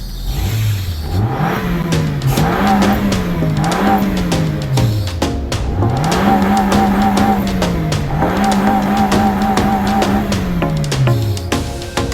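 A 2001 Nissan Altima engine runs at close range after a mass air flow sensor replacement, a steady mid-pitched hum that swells and falls through several rev rises, with no talk over it.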